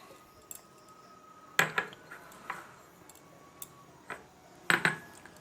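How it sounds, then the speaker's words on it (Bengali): Potatoes for aloo kabli tip into a big bowl in two loud clattering bursts, with scattered lighter knocks and clinks between them in a quiet kitchen. "ফার্স্টে আলুটা একটা বড় বোলের মধ্যে আমরা ঢেলে নেব।"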